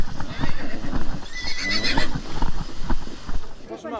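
A horse whinnies loudly nearby while standing in a river, amid splashing and hoof movement, with people talking in the background.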